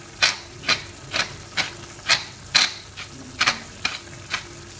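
Green beans, potatoes and chicken being stirred in a pan, about ten distinct scraping clatters of a utensil in a steady rhythm, close and fairly loud, with a faint sizzle underneath.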